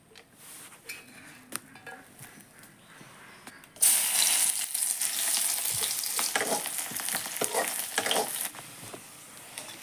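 Vegetables (tomato, potato, taro and pumpkin) hit a hot wok over a wood fire and burst into loud, steady sizzling, after a quieter stretch of faint crackle and clatter, with stirring scrapes continuing throughout.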